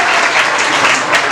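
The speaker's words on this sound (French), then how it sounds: "Sous vos applaudissements." An audience at a school quiz contest grand final breaks into dense, sustained applause for a contestant, loud and close throughout the brief burst.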